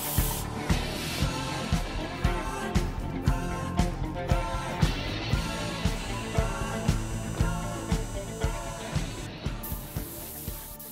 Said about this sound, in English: Most of the spraying on the body of the drill was done at half trigger